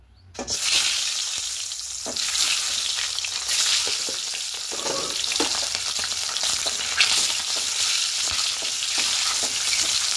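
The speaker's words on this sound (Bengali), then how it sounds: "এবার তেল দিয়ে ডিমগুলোকে প্রথম ভেজে নেব।" Duck eggs fry in hot mustard oil with a continuous loud sizzle and crackle, and occasional stirring sounds.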